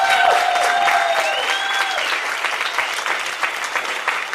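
An audience claps in a loud, dense burst of applause that gradually thins over several seconds, with a few voices calling out over it.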